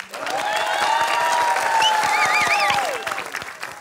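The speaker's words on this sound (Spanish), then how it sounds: "¡Por aplausos!" Loud, sustained crowd applause and cheering from a live comedy show audience voting for a comedian, dense and steady throughout with whistles rising over the clapping before it tapers off.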